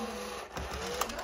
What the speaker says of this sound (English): I got the little can motor inside of it working